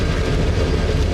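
The Mount Washington Cog Railway train runs on its toothed rack rail up the mountain, giving a loud, steady mechanical rumble and clatter with no speech.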